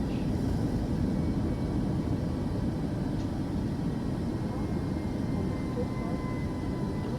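Boeing 737 jet engines roar steadily during climb-out in Microsoft Flight Simulator 2024, a loud continuous broadband rumble that holds level throughout with no breaks.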